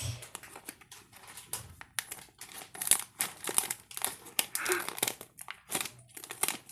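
A Hello Kitty roly-poly toy package is torn open, with dense, close crinkling and rustling of plastic wrapping in quick irregular bursts.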